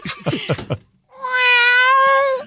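A woman imitates a cat with her voice: after a short burst of speech, she gives one long, loud, drawn-out meow that holds steady for over a second and ends cleanly.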